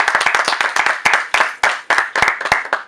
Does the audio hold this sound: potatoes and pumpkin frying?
no